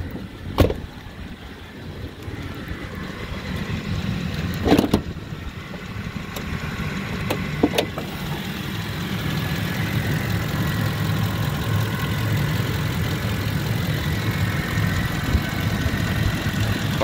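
A 2007 Ford F-150 with a 5.4 Triton engine idles with a steady low rumble, close by and unbroken, with a few sharp clicks and knocks near the start.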